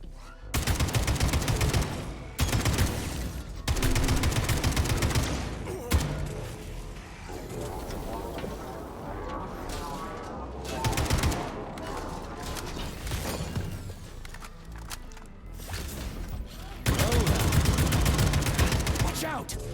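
Bursts of rapid automatic gunfire from a weapon in the video game Atomic Heart, loud repeated volleys separated by quieter stretches of mechanical clanks and creaks.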